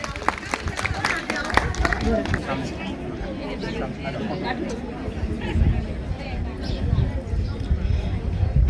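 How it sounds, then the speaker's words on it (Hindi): At a Women's Day celebration, an audience claps for a performance by young girls. Scattered claps crowd the opening seconds, then fade into steady crowd chatter, with someone speaking throughout. "जोरदार तालियां हो जाए इन बच्चियों के लिए।"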